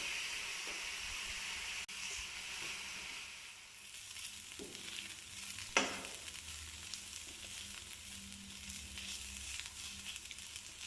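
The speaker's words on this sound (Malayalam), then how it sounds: "സവാള പെട്ടെന്ന് വഴങ്ങാൻ വേണ്ടിയിട്ട് നമുക്ക് ആവശ്യത്തിന് ഉപ്പ് ചേർത്ത് കൊടുക്കാം" Sliced onions with salt sautéing in a pan, a steady bright sizzle throughout with one sharp stir or scrape near the middle, fairly close and alone without talk.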